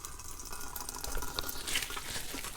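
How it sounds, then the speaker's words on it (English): Water trickles and drips as salted green papaya is squeezed by hand for atchara, a faint, close splashing and dribbling that continues throughout. "we're gonna squeeze the water out"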